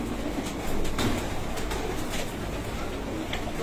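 Pigeons cooing and stirring in a loft or coop on a rooftop, a steady low murmur of many birds close by with soft flutters, no talk over it.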